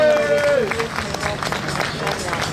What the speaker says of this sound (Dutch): Dames en heren, uw applaus voor de derde plaats